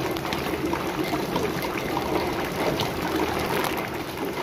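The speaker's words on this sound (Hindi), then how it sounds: "टैंक में पानी डाल रहे हैं भाई," Rainwater poured steadily into a storage tank, a continuous broadband rush of falling water that stays loud and even throughout with no talk over it.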